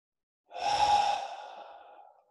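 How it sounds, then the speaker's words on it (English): A single deep, audible exhale, close and clear, with a breathy sigh that trails off over about two seconds during a guided breathing exercise. "Take a big breath in and let it out."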